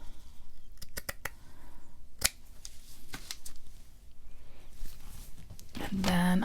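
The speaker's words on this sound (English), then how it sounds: "I'm going to cut a piece of that." Scissors snip through a piece of banner paper at a craft table, sounding as a few sharp close cuts spaced apart, with a longer rustling cut near the end.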